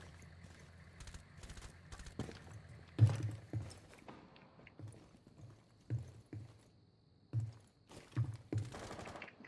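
Scattered gunshots in a tactical shooter video game, sharp cracks and short bursts at irregular intervals over a quiet background, some close and some more distant.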